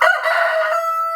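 A homestead rooster lets out a loud, close cock-a-doodle-doo, one sustained crow held steady for over a second with no other sound.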